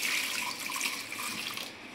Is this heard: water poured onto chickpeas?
yes